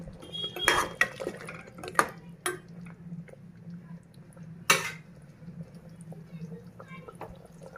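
Garam masala is stirred into mutton curry in a pot, with a spoon scraping and clinking against the metal in a few sharp knocks and softer stirring between, close and fairly quiet.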